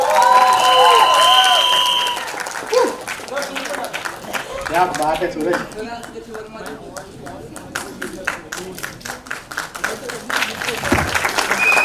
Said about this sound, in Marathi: एकदा जोरदार टाळ्या सूरज आणि त्याच्या बहिणींसाठी.